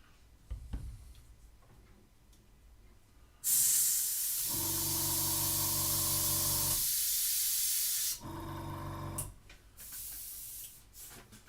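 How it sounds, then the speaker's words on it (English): A dual-action airbrush sprays metallic paint in two steady hissing bursts, a long one followed by a shorter one, with a quieter compressor hum and light clicks between. "As long as I keep the airbrush running today"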